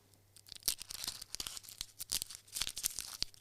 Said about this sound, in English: This is what my paper wrapper sounds like